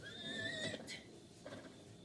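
A horse in The Legend of Zelda: Breath of the Wild whinnies loudly and close by, a shrill rising-and-falling neigh followed by a softer snort.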